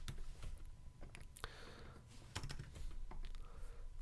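Steady typing on a computer keyboard while writing code, a dense run of quick key clicks with a few louder strokes, close and alone over a low room hum.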